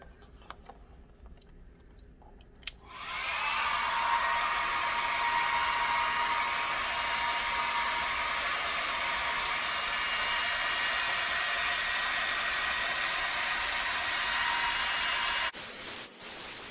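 Hair dryer switching on after a few seconds of quiet handling sounds, then blowing hot air onto crayons in a loud, steady, rushing hiss that holds constant before cutting off near the end.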